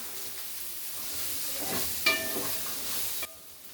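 Bitter gourd frying in a pan on the stove, giving a steady close hiss of sizzling oil with one brief metallic clink midway, alone without voices.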